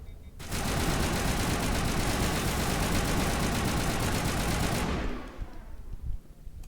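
Sustained automatic gunfire from the video game Mass Effect roars for about four and a half seconds in one unbroken, fast-chattering burst, loud and up front, then cuts off into quiet background ambience.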